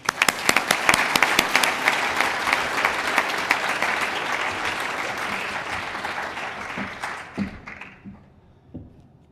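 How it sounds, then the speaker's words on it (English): An audience claps for award recipients at a formal ceremony, a dense, loud burst of applause that holds steady and then thins out to scattered claps as it fades. "Let's give them a hand of applause now"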